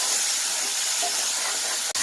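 Onion paste frying in a pan for a peas masala curry, producing an even, close hissing sizzle that runs throughout and drops out briefly with a sharp click near the end.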